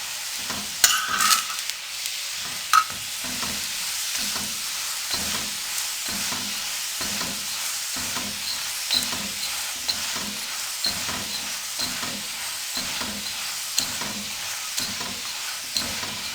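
Paratha cooking in ghee on a hot griddle, a steady close sizzle and crackle with soft rhythmic scraping or stirring strokes repeating through, a few sharper pops near the start, no voices.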